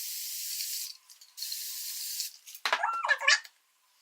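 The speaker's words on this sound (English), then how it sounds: "I'm going to spray my baby hairs with some water." A spray bottle mists water onto baby hairs in two long, steady hissing bursts, followed by a few short plastic squeaks and clicks from the bottle, all close and with no talking.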